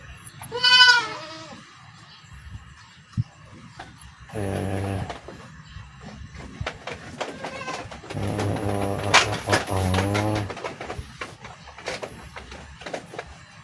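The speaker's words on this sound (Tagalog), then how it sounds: "Ikot-ikot kasi itong mga kambing na ito eh." Goats bleat on a farm, several loud wavering calls near and far at intervals, one early cry and longer overlapping bleats later, over a low background rumble and rustling.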